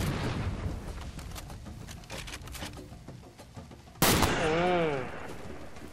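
Bursts of gunfire ring out in Far Cry 2, with a sharp loud report partway through that then trails off. Someone talks intermittently over the shooting.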